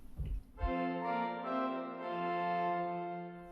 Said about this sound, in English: 4 foot is an octave higher,